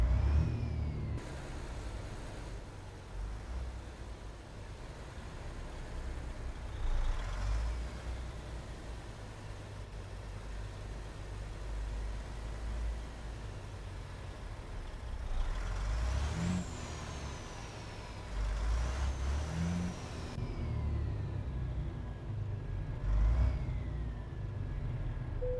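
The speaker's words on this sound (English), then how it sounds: "See how the truck moves when you're on the throttle?" A Mack R truck in American Truck Simulator runs with a steady low diesel drone, rising in revs at times, with several brief air-brake hisses over the top.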